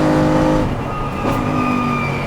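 A Mercedes-AMG race car engine drones loudly and steadily from close by during night practice at the Dubai 24 Hour, its tone dipping briefly before climbing again with a faint whine above.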